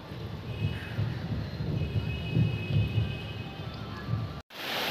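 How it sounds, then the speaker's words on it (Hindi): Heavy rain falls steadily as a dense, even wash with a low rumble underneath, continuous until an abrupt cut near the end, with no voices. "गाइस बारिश तेज़ हो चुकी है"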